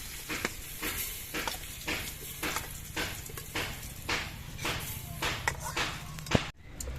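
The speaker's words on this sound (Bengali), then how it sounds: "এবার নুন আর হলুদ দিয়ে আমি উচ্ছেটা বেশ ভালো মতো ভেজে নেব" Bitter gourd fries in hot oil with salt and turmeric, giving a steady sizzle. Repeated scraping stir strokes come in a regular rhythm, close and clear, and a sharp knock sounds near the end.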